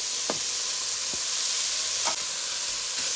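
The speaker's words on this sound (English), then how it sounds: "So my onion and carrots is cooking up nicely" A whole red onion and carrots sizzling in a pan for stir-fried vegetables: a loud continuous hiss close by, broken by a few brief stirring scrapes, with no voices.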